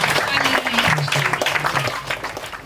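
Hands clapping together from a church congregation of devotees, a dense burst of applause mixed with murmured voices and a singing tone underneath, steady throughout.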